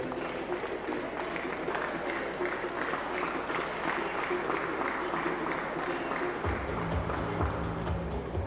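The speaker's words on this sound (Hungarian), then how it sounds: "Nagy tapsot nekik, mert ez is egy komoly mezőny volt." Audience at a 2018 bodybuilding qualifier applauding the competitors, scattered clapping mixed with crowd noise under an announcer's voice, with a low hum entering toward the end.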